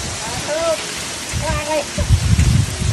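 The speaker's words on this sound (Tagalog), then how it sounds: "Muulan ng yelo." Small hailstones fall outdoors, a dense rattling patter of ice on surfaces that swells louder toward the end, with people talking over it.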